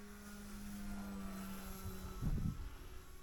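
A Piper Cherokee model airplane flies through gusty winter winds in Lower Alabama, its engine a steady, distant droning buzz with a louder, rumbling gust of wind briefly swelling near the end.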